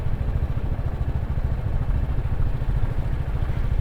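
A Royal Enfield Classic 350 Reborn motorcycle runs at night, its engine giving a low, even thumping beat that stays close and steady throughout.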